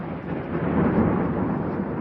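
A thunderstorm with heavy rain hisses steadily while a deep thunder rumble swells and fades beneath it, loud and continuous with no pauses.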